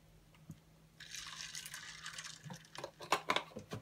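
Milk poured over ice for a vanilla iced coffee gives a soft liquid splash and trickle, quiet and close, ending in a few drips and clinks.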